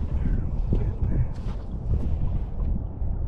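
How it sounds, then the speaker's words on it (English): Low, rumbling wind buffets the microphone aboard a small sailboat on a maiden sail, a steady roar with gusty swells throughout and no clear voices. "Some wind."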